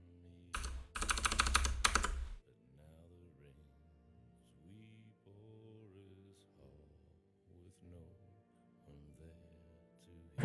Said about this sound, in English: I have a very loud keyboard.